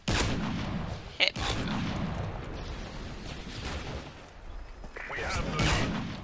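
Gunfire in an online video game shooter: a steady rattle of shots runs throughout, with one sharp, loud crack near the start and a denser burst toward the end.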